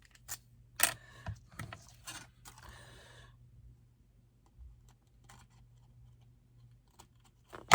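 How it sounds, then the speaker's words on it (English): A few crisp, quick snips of scissors cutting paper while making a Christmas card, followed by quiet handling sounds and near silence. "with a pair of scissors just snip"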